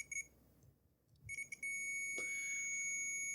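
A multimeter continuity test on a Super Nintendo power supply gives off a steady high electronic beep that starts in short chirps, then holds continuously, fairly faint and with no voice over it.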